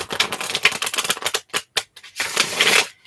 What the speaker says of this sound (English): while I'm shuffling,